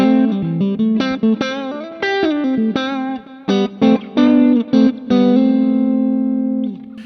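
Clean electric guitar through a digital amp modeler plays a melodic line of single notes and short slides, ending on a long sustained note that fades out.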